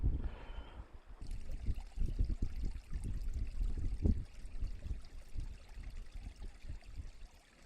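Creek water bubbling and trickling steadily beside a small campsite in the Southern Flinders, a continuous close wash of flowing water with no talk.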